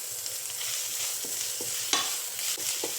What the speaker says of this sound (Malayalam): അപ്പം ഈ മുരിങ്ങയില ഒന്ന് നന്നായിട്ടൊന്ന് വാടുന്നത് വരെ നമ്മൾ വഴറ്റി കൊടുക്കണം